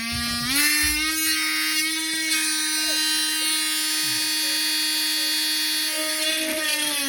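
A Dremel Stylo rotary tool whines at a high, steady pitch as it drills into thick wood, loud and close, its motor note rising briefly at the start and then holding even.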